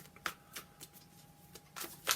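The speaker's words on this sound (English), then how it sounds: "Sorry, but these are very difficult to shuffle." Tarot cards being shuffled in short, crisp riffles, a few quick bursts with pauses between, close and fairly quiet against a faint background hum.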